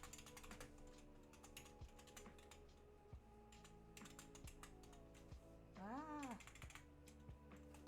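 Rapid, irregular clicks of typing on a computer keyboard during a live coding stream, fairly close and continuous, over a steady tonal background with a brief rising and falling voice-like sweep.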